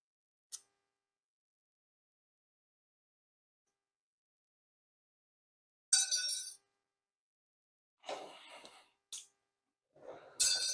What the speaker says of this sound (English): So we'll just take these old caliper slide clip things off.